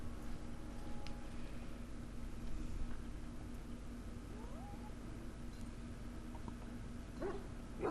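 A dog in the video game Dragon Age gives faint whining and whimpering sounds over a low, constant background hum, ending with a brief, slightly louder vocal burst.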